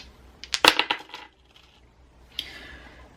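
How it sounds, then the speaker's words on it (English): Astrology dice are rolled and tumble onto a surface: a quick cluster of bright clicking, clattering impacts, then a quieter short rattle a second later, close and with no voices. "let's roll some astro dice to get more info for pile 4"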